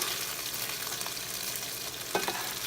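Beef for stroganoff browns in a hot pan with a steady, close frying sizzle, and a couple of brief stirring clatters come near the end.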